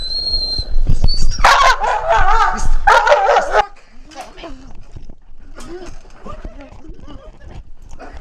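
A police dog barks loudly and urgently in rapid, close bursts during a Costa Rican police call-out, then falls quiet as someone talks.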